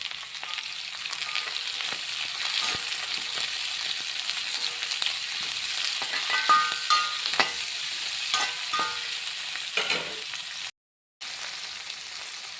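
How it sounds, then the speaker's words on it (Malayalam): Two potatoes, one big onion and halved shallots frying in a pan for Kerala sadya koottu curry, a close sizzle with repeated scraping stirs and spoon clinks, briefly cut near the end. "2 ഉരുളക്കിഴങ്ങ്, 1 സവാള, 10 ചെറിയ ഉള്ളി രണ്ടായിട്ട് കട്ട് ചെയ്തത് ഇട്ട് നമുക്കൊന്ന് ഇളക്കി കൊടുക്കാം"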